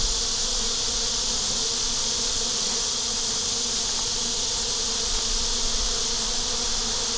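Bees buzz in a dense, continuous drone around a beehive on a hot day, many of them outside the hive. The sound is loud and close, with no voices.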